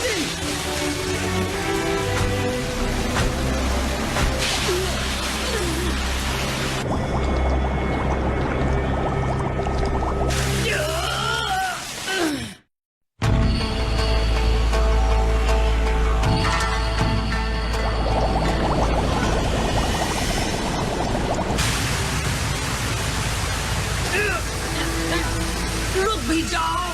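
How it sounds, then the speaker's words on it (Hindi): Water roars as it rushes and floods into a ship, an anime sound effect in Naruto Shippuden: a loud, continuous gushing with voices over it and one brief dropout partway through. "पानी अंदर आ रहा है।"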